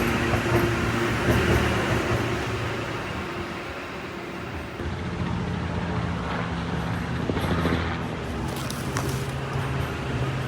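A train rumbles steadily past close by near a railway tunnel at night, a continuous low rolling roar with faint metallic squeals and rattles, heard outdoors with no talk.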